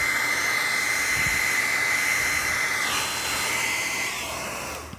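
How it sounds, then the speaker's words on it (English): A hair dryer blows steadily on a glaze coat, a loud continuous whooshing hum with a faint high whine that shifts pitch midway and fades slightly at the end. "you have to make sure that you blow dry completely"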